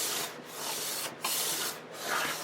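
Hand plane drawing long, smooth strokes along the edge of an acoustic guitar top or back plate, lifting very fine, nearly see-through shavings; three steady swishing passes with brief pauses between, close and clear with no talk.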